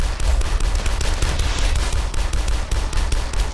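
Rapid, loud gunfire from the retro shooter video game Dusk, a dense continuous stream of shots hammering close up for the whole stretch with no pauses.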